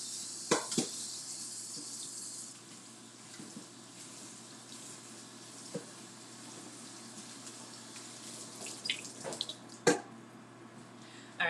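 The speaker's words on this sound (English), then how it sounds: "rinsing off the" Tap water runs steadily while mushrooms are rinsed in a kitchen sink, a soft continuous hiss with a few brief splashes and clatters near the start and end.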